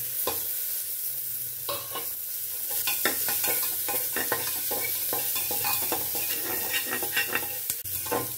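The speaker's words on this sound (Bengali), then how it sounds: "কুচানো পেঁয়াজ দিয়ে নাড়াচাড়া করে ভেজে নেওয়ার পর" Chopped onion frying with garlic in a pan gives a continuous close sizzle, broken by repeated sharp scraping strokes of a spatula as it is stirred, with no talk.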